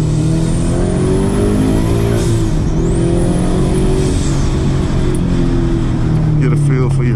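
A turbocharged Toyota GT86 show car on air suspension runs loud and close with a steady high engine drone and rising whine, tuned to drift spec and revving toward 7,000 rpm.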